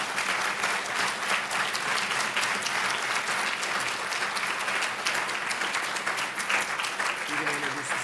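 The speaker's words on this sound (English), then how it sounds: "Now we can have a round of applause for that." Continuous, dense applause from the audience at an International Baccalaureate graduation ceremony, even and sustained for several seconds, with faint voices beneath it near the end.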